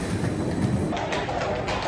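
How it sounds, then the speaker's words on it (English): A London Underground train rumbles along in motion with a dense, steady roar and rattling, loud and close throughout, with no clear talking. "Just got off the train at Embankment."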